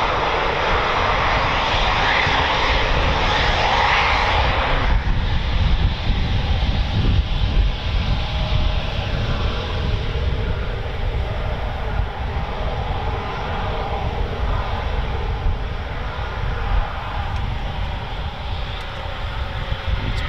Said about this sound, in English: it's 29 squadron just coming now into land.